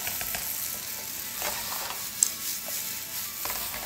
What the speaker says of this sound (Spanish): Vamos a mover nuestros champiñones a fuego fuerte.